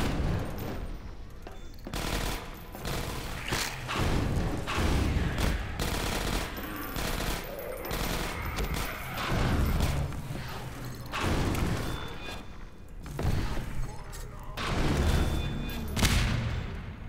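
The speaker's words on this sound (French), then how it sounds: "Attention, j'entends les tourelles." Automated turrets in Half-Life 2: Episode One fire in repeated loud bursts of rapid gunfire with booming impacts, continuing throughout amid game sounds.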